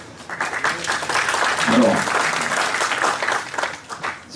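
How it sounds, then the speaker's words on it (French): Audience applause fills an opening session at an Oracle systems forum in Paris, a dense steady patter throughout as someone speaks French over it. "c'est pour moi ou pour lui que vous applaudissez?"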